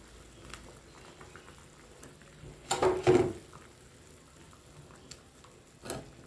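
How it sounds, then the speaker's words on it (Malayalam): Mackerel curry simmers in a pot with soft, intermittent bubbling and popping, including a louder cluster of bursts midway and another near the end. "കറി നന്നായി തിളച്ച് വന്നിട്ടുണ്ട്"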